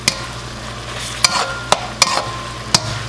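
Beef stir-fries in a hot pan with a constant sizzle and a few sharp clacks of a utensil striking the pan at irregular intervals, close and fairly loud.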